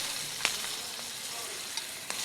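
Garlic, thyme and peppers frying in oil in a pan beside a salmon fillet, giving a steady close sizzle with a few sharp crackles and pops throughout.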